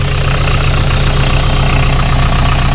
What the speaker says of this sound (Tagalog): Umandar na siya mga kayos.